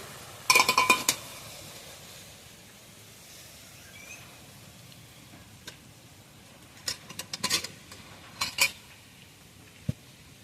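Spicy river mourala fish jhal curry is poured out of a pan, with metal utensils clinking and scraping in short bursts near the start and again toward the end, separated by quieter stretches.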